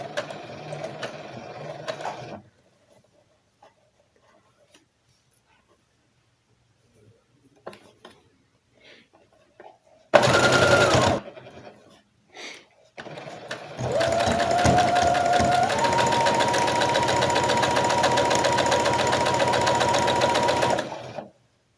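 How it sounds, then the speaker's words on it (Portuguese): A sewing machine stitches fabric in a straight line in three runs: a short burst, a brief spurt after a long quiet gap, then a long steady whirring run of rapid mechanical clatter, close and clear. "Vou retirando os alfinetes e vou costurando sempre reto."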